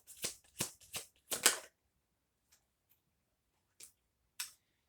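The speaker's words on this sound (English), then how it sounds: "I'm going to pull some more cards" A deck of tarot cards shuffled in a quick run of five or six crisp riffles, then silence broken by a couple of isolated card snaps, close and dry with no voices.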